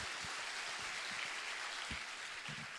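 An audience at a Marathi public interview event applauds for a guest, producing steady, dense clapping that fills the whole stretch at an even level with no voices over it.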